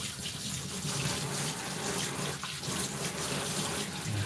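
Steady running water at reduced pressure from a bathing system spray while a small dog is washed, a continuous close hiss and splatter with no talk.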